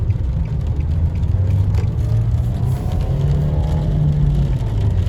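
A 2023 Nissan Versa S with a manual gearbox pulls away and shifts gears. Its engine gives a steady, close rumbling drone with a slight rise and dip in pitch, and no one speaks.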